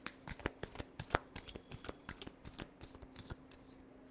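A deck of tarot cards is riffled and shuffled by hand, producing a close, quiet flurry of crisp flicking snaps in uneven bursts.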